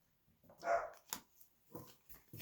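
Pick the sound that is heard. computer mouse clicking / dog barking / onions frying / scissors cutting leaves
dog barking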